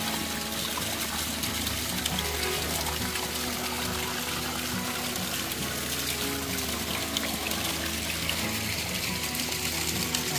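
Waterfall on a jungle river: a constant, full rush of pouring water close by, a dense unbroken hiss and burble throughout with no speech.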